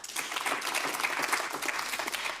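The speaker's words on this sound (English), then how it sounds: "As you can see, everybody applauds." Conference audience clapping in a moderately sized room, a brief burst of many hands with irregular individual claps standing out, fairly distant and at modest volume.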